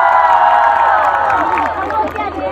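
A large crowd at an outdoor bonfire-festival concert roars and cheers loudly, a dense wash of voices that swells and then eases slightly over a couple of seconds.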